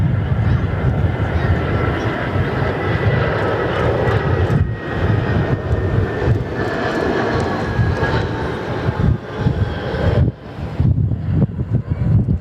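A Fokker 100 jet at Perth Airport drones with a loud, continuous engine roar, buffeted by heavy wind noise on the microphone, with brief dips in intensity.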